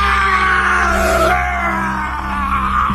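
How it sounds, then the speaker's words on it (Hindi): A woman's scream in a Hindi audio drama, a loud sustained strained cry that holds steady for about three seconds, alone with no speech over it. "उसकी चीख निकल गई।"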